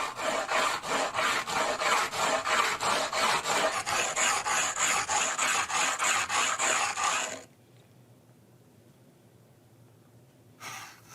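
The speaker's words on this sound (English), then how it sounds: "The sound of sanding and grinding would have been audible to anyone approaching a Neolithic settlement" A sandstone ring being sanded by hand, rhythmic rasping strokes repeating about twice a second at close range, stopping abruptly partway through and leaving near silence before a brief final scrape.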